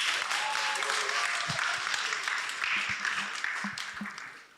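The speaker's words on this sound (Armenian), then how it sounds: "եկեք ծափարենք Նարեկին" Audience applause after a speaker's turn at a panel debate, steady and fairly close, fading slightly toward the end, with a few low thumps and faint voices mixed in.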